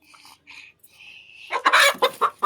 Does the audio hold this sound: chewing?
no